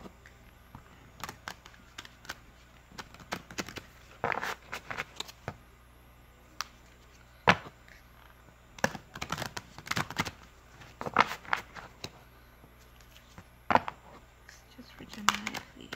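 Tarot cards are shuffled by hand in a series of quick, crisp riffles and taps, irregular bursts spread across the stretch, close by with quiet gaps between them.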